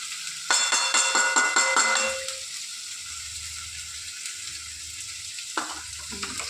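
Cashews, fennel, mustard seeds and green chilli hit hot oil in a pan with a loud, crackling burst. The frying then settles into a fainter, steady sizzle, with a brief stirring scrape near the end.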